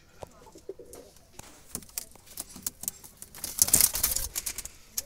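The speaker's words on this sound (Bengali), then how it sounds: "একটা খয়েরি জালালি কবুতর" A brown Jalali wild pigeon gives soft, intermittent coos close by, mixed with light taps and patter and a louder rustling burst near the end.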